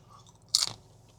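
One close, brief crunching bite into a crispy yet chewy fried local snack from Marinduque, Philippines, like fried sticky rice, a single sharp crackle with no talk over it.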